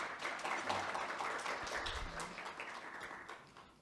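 Attendees at a government briefing on new AI-based health and welfare programs applaud a presenter, with dense clapping from a seated crowd that is loudest early, then slowly tapers off.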